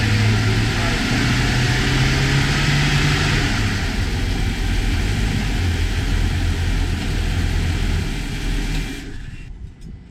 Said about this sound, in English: We've got some nice smooth running engines right there.